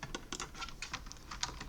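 Quick keystrokes on a computer keyboard entering a command in a Windows command prompt, a short, irregular run of light clicks, faint and close, with no talk.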